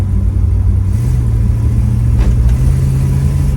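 A restored commercial go-kart engine revs and runs steadily close by, a loud low rumbling drone that rises slightly in pitch partway through, with no talking over it.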